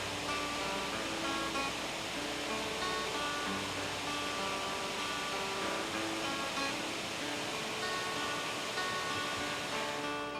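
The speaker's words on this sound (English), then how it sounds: "At 411 feet, Whitewater Falls is perhaps the most impressive waterfall in the region." Whitewater Falls, a 411-foot waterfall in the Southern Appalachians, gives a steady, dense roar of falling water that holds even and unbroken throughout, with no voices.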